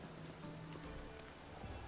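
Rain falls in the Witcher 3 game world, a faint, steady hiss of drops on surfaces under a low ambient wash, with no voices.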